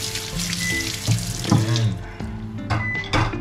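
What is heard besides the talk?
washing dishes under running water in the kitchen sink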